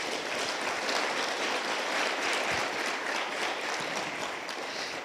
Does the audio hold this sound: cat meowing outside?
no